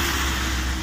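A car engine rumbles steadily close by on a cold, rainy street, a brief continuous low drone with no voices.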